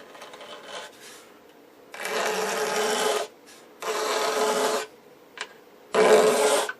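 A scraper rasps lacquer and grain filler off the wooden main cabinet of an RCA Radiola 60 radio in four firm, even strokes with short pauses between, close and alone.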